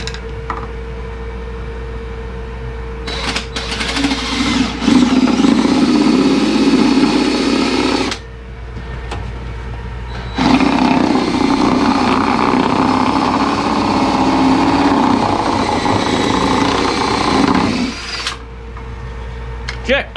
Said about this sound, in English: So we're going to see if we can drill up through right here.